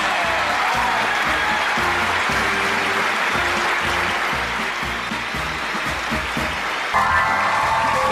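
Studio audience on a Chinese variety show applauding as guests are welcomed, a loud, sustained wash of clapping that carries on steadily, with music playing underneath.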